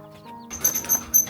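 Chickens cluck in a village yard. After a quiet, humming start, three short, fairly loud clucking bursts follow one another close by, with no clear speech.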